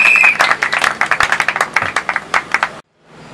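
Audience applause at an academic degree conferral ceremony at a management and development institute, a steady patter of many clapping hands that fades out abruptly into silence near the end.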